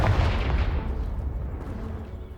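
A Confringo blasting spell explodes in Hogwarts Legacy, a loud booming burst that starts strong and rolls off into a long, decaying rumble.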